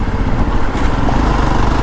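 Motorcycle engine droning steadily while riding on a road in Jammu, loud and close with wind rush and constant rumble, no talk.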